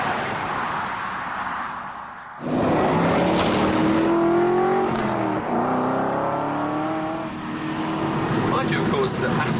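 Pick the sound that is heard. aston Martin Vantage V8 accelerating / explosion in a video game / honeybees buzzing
aston Martin Vantage V8 accelerating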